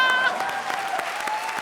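A studio audience at a televised comedy show breaks into brisk applause, dense clapping that fills the room and fades slightly over under two seconds, with a voice and light crowd noise mixed in.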